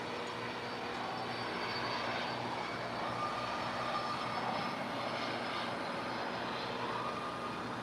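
Airliner taking off from runway 25 at LAX, a steady broadband engine roar that holds evenly throughout, distant but continuous, with no voices over it.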